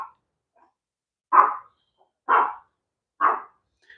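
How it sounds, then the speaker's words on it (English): Dogs bark indoors in three loud, evenly spaced single barks about a second apart, with quiet gaps between them. "Let me know if my dogs are too loud."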